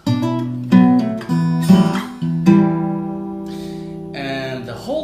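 Fingerstyle guitar lick picked on the low E bass string with strings 5, 4 and 3, a bass note under plucked chord tones in a relaxed rhythm, close and clear, letting notes ring.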